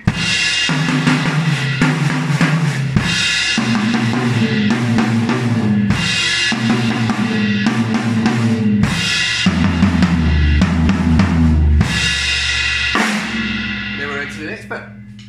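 A drum kit plays a groove built on a crash cymbal, flams and snare drum, loud and close, with repeated hits through most of the passage before it trails off near the end.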